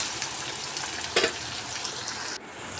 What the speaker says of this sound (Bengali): তো পেঁয়াজটাকে আমি ভেজে নেব একটু।